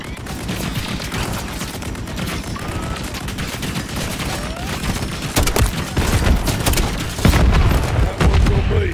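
Sustained gunfire from a Call of Duty: Modern Warfare 3 (2023) battle in a frozen tundra, with dense overlapping shots and heavier booming bursts growing louder toward the end.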